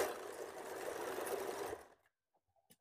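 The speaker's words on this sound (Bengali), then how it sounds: "প্রথমত আমরা নর্মাল সেলাই করে নিচ্ছি।" A sewing machine runs steadily through a normal straight stitch on garment fabric for under two seconds, a dense continuous whir, then stops, leaving near silence with a few faint clicks.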